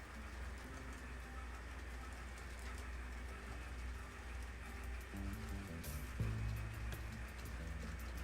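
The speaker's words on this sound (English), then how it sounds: "Let's send her home and let's enjoy that train." An HO scale model train runs on a layout track, a steady rolling rumble with faint clicking and a brief brighter burst near the end, continuous at moderate level.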